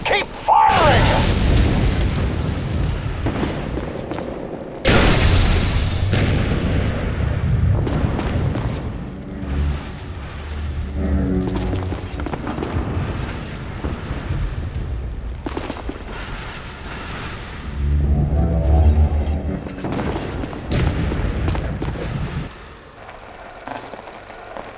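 Heavy explosions and gunfire from The Bureau: XCOM Declassified boom out at the start and again around the middle, with a rolling barrage of blasts and shots throughout and shouting voices mixed into the chaos.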